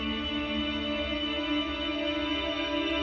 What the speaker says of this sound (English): Increase the delay and reverb.